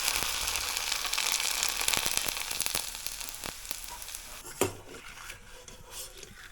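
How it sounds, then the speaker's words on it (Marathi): Small thin sabudana papads frying in hot oil in a kadhai make a soft, steady sizzle. A few sharp clinks of a utensil break through near the end. "हे छोटे छोटे पातळाचे पापड घेतले मी तळण्यासाठी"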